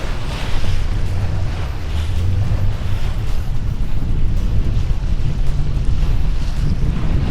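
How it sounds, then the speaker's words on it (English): A sailboat under sail off Turkey near Fethiye, water rushing steadily past the hull with heavy wind buffeting the microphone, a loud continuous roar of waves and wind with no talking. "the sound of the water, the power of the sails"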